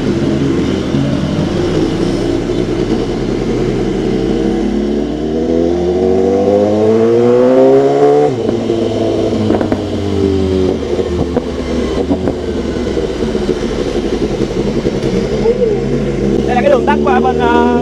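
BMW 900cc naked motorcycle with a Rockland engine revving during a night ride through Saigon traffic, pitch climbing through gears then dropping and rising again, loud and close beneath steady talking by the rider.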